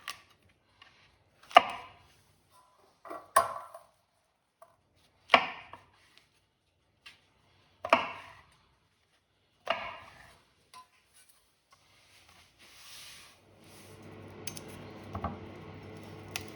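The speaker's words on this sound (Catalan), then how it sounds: "Ara netegem i tallem els xampinyons." Knife chopping cleaned button mushrooms on a board in a home kitchen, a handful of sharp, spaced cuts in small clusters, close and clear, then a soft rustle and low background hum near the end.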